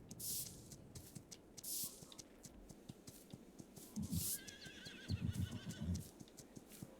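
A horse in a video game whinnies and snorts a few times while being brushed down in a stable, between soft spraying hisses and muffled thumps, fairly close, with no talking.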